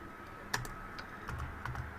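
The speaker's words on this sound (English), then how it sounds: "So let's type" Quiet, uneven clicking of keys being typed on a computer keyboard, with a few sharper keystrokes standing out against a soft background hiss.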